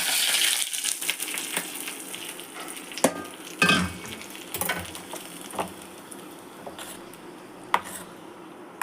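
Mustard seeds and spices spluttering in a little hot oil while tempering coconut chutney for a breakfast of pepper pongal, a steady crackling sizzle with a few sharper pops and clinks, close and alone without talk.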